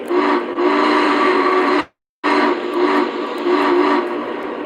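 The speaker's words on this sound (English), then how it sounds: "Trying to give everybody their proper whistles" A Lionel or MTH model train whistle blows loud and close in long sustained chordal blasts, cut by a brief silent gap, then sounding again in repeated swells.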